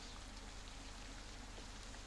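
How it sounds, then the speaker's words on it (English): Steady rain falling outdoors during a tabletop game session, an even, continuous patter and hiss with no break, faint and distant in the background and heard alone without talk. "Rain just really stopped."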